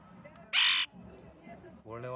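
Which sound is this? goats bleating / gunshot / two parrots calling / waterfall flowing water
two parrots calling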